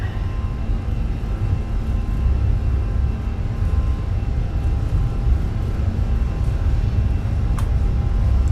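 An Airbus A320's engines run at takeoff thrust during the takeoff roll on a Caribbean island runway, a steady, loud, broadband roar that holds constant throughout.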